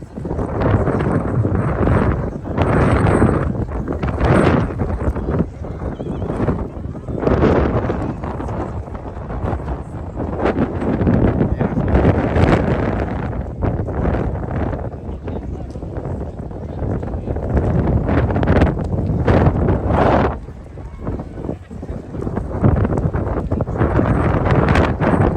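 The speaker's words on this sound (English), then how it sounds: "Looks like the wind is picking up again" Strong outdoor wind buffets the microphone in continuous gusty roars at the Royal Palace of Madrid, swelling and easing throughout with a brief lull near the end.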